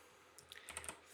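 Quick taps on a computer keyboard, a short run of soft, close clicks over faint background noise.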